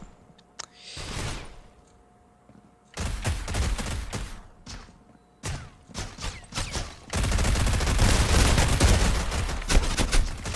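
Gunfire rings out in the mobile shooter Critical Ops, with an AK rifle trading shots against an SMG. Loud, close bursts of automatic fire come in several rapid volleys separated by brief pauses, with no talking.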